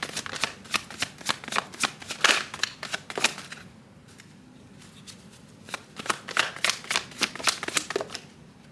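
Tarot cards being shuffled in a rapid, crisp riffling rhythm, close and clear, pausing briefly in the middle before another burst of shuffling.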